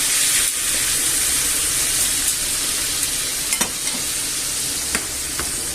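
Sliced chorizo with sweet paprika and a splash of water sizzles steadily in a pan, a close, continuous hiss broken by a few soft clicks and scrapes as it is stirred about.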